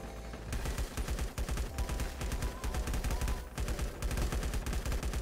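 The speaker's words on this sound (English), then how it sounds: "Come on, a few more shots. Just keep shooting." Rapid, dense gunfire from the video game LifeAfter, near and loud, sustained bursts of automatic shots with no pauses for the full stretch.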